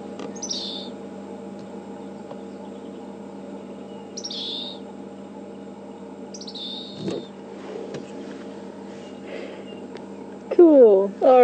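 A dwarf mongoose family chirps in a few short, high, scattered calls over a steady vehicle engine hum, with a louder cluster of chirps near the end.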